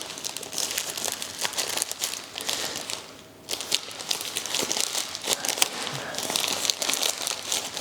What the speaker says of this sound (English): Let's try to unbox this.